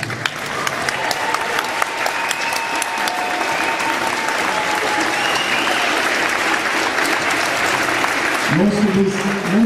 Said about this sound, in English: Give up another round of applause for the seniors.